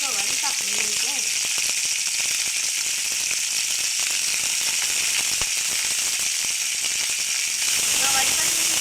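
Guar beans, also called cluster beans, sizzle steadily in hot oil with lightly fried onion. Spoon stirs and scrapes sound now and then, and a person talks over the frying.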